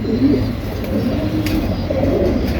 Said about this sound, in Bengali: এই হচ্ছে সাপচিল একটা কবুতর